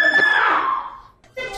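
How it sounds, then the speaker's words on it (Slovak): A single loud scream rings out in the background of a recorded argument, a strained cry that sustains and slowly fades over about a second before a short burst of other sound follows. "V ňom bolo v pozadí počuť krik."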